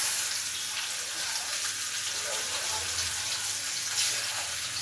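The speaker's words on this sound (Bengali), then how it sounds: "এই দেখেন ইলিশ মাছ তেলে দিয়ে দিচ্ছে।" Hilsa fish frying in hot oil makes a steady, hissing sizzle that stays even and fairly close, with no voices over it.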